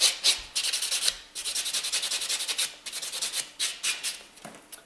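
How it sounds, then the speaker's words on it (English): A nail buffer rubbed briskly back and forth across fingernails, making close, rhythmic rasping strokes in quick even bursts with short gaps between them. "I'm going to take a buffer and I'm going to go over this now"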